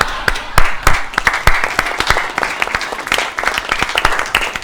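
Audience applause at an Italian improvised poetry contest, a lively burst of sharp, uneven clapping from a close crowd that keeps up through the whole stretch.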